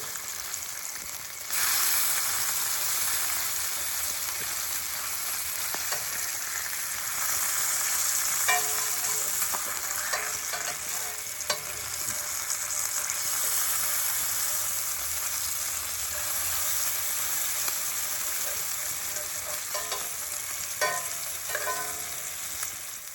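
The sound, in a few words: eggs and bacon frying for breakfast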